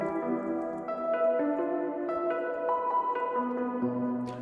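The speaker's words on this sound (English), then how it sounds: "this is a really nice piano sound" A soft layered piano patch blending a Rhodes electric piano with an acoustic piano plays a slow sequence of sustained chords and single notes, each new note ringing into the last, clean and without voices.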